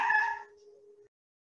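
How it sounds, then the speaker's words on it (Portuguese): Indoors, a single short cat meow sounds faintly and briefly, as if from across the house, then quiet. "Vocês ouviram? Foi um miado."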